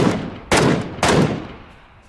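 Three rapid gunshots ring out in PUBG, each a loud sharp bang about half a second apart, with the last decaying into a fading echo.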